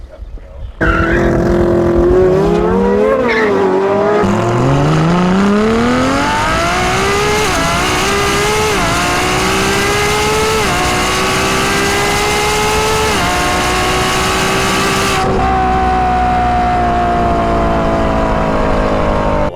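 A LaFerrari drag races another car, its engine roaring loud and close as it accelerates hard through rising gear-shift sweeps, revs climbing and dropping before the roar cuts off near the end.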